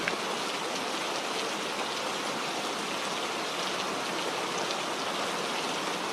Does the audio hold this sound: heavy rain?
yes